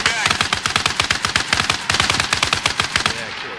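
A vehicle-mounted machine gun fires in a video game, a loud, close, continuous rapid burst of rattling shots with only a brief pause partway through.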